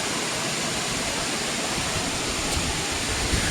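Agaya Gangai waterfall in the Kolli Hills gives off an unbroken, even roar of falling water that stays loud and close the whole time.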